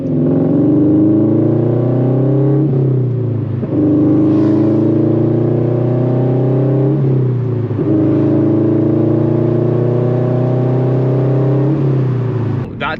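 Loud, close drone of a straight-piped Toyota 86/Subaru BRZ exhaust, its pitch rising steadily then dropping at several gear changes across the clip.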